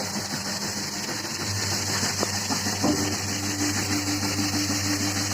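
A homemade feed mixer runs steadily, its motor giving a continuous mid-pitched hum and drone with light rattling throughout, close and even in level.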